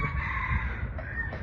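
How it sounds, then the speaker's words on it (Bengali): Wild junglefowl rooster in Singapore gives a single clear crow, moderately close and alone, ringing out over a low background hum. "পিওর বন মোরগ"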